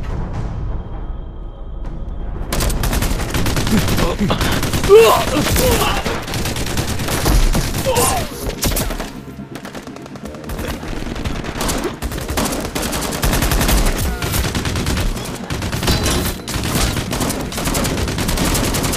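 Heavy gunfire in a war movie battle scene: dense bursts of automatic fire and single shots, loud and close, layered over explosions and a cinematic soundtrack, after a brief quieter opening.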